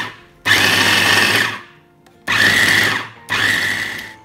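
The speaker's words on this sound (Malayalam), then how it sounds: "ഇനി വെളുത്തുള്ളി, ക്യാരറ്റ്, ഇഞ്ചി, സവോള ഇതെല്ലാം കൂടി ഒന്ന് ക്രഷ് ചെയ്തെടുക്കാം" A kitchen mixer grinder crushes garlic, carrot, ginger and onion in three loud, steady whirring bursts, each running about a second before stopping, with short pauses between.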